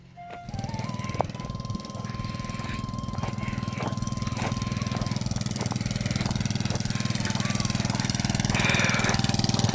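A running generator gives off a loud, steady engine drone that holds without a break, with a thin tonal whine riding on top.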